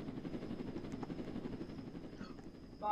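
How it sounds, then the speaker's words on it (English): A helicopter's rotor chops steadily at a distance in the Roblox game Jailbreak, a low fluttering drone with a faint high whine, fairly quiet throughout. "I'm the coolest helicopter in the sky now."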